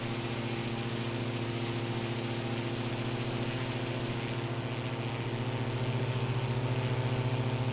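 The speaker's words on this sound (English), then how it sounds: "I also like the engine noise from this aircraft" A Diamond DA62 twin-engine aircraft in Microsoft Flight Simulator drones with a steady, even engine hum that stays constant and moderately quiet throughout, with no voices.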